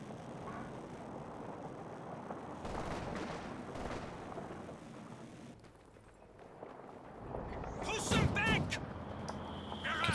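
Mortar half-track shells land in a Company of Heroes 2 multiplayer battle: dense, steady gunfire and explosion noise, with a louder, sharper burst of impacts near the end.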